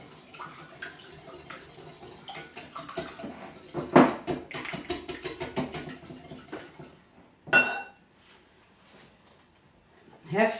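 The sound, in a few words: whisking with a whisk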